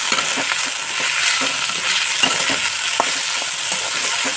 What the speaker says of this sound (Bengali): শুক্তো ভাজা একটু করতে সময় লাগে আস্তে আস্তে কমিয়ে কমিয়ে বেশ ভালো করে ভাজবো